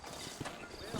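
Horse hooves clip-clop steadily in the Red Dead Redemption game, a close, even rhythm of hoofbeats with a faint whinny-like tone over a busy background.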